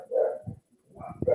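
Excited dogs barking in two loud bursts separated by a short quiet gap, with mid-pitched barks and some lower yips, heard outdoors up close.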